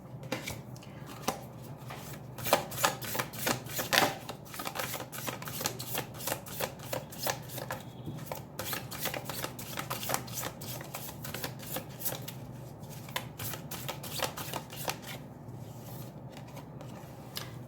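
A deck of tarot cards riffled and shuffled over and over: a long run of quick, papery flutters and snaps in uneven bursts, close and moderately loud, with no voices.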